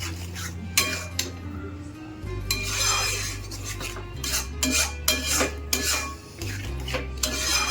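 Spices being mixed into fish for korma in a pan, with repeated scraping, rubbing and clinking of a utensil against the pan over a low steady hum, close and continuous, with no one speaking.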